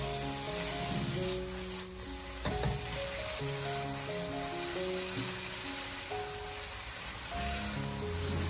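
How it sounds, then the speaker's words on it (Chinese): Carrot slices stir-fry over high heat in a wok with a continuous sizzle and occasional tossing scrapes, half-buried under steady background music. "继续的开大火给它翻炒几下，将它翻炒均匀，把胡萝卜片翻炒至成熟"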